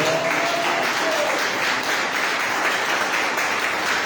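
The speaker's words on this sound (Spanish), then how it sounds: "Denle aplauso al Rey." A church congregation applauds during a worship service, a steady, even wash of many clapping hands at moderate volume, filling the room without a break.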